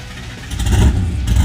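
The engine of a Chevrolet Camaro, the Roadkill Garage Crusher Camaro, catches and swells into a brief, loud rev, rising from a low idle rumble to a fuller roar within about a second.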